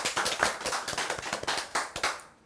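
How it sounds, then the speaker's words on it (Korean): Clapping at a launch ceremony, heard close up: several hands clap in sharp, uneven bursts that thin out and fade after about two seconds. "힘찬 박수 보내주시기 바랍니다."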